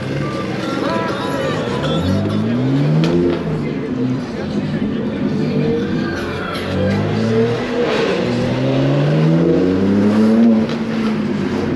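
Loud BMW G80 M3 revving and driving through New York City streets, with repeated rising and falling engine surges close by over a busy traffic background.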